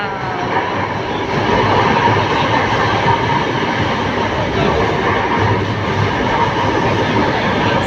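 Loud, steady rumble of a light rail train in motion heard from inside a carriage, with continuous rolling wheel noise and faint rattling, no talk.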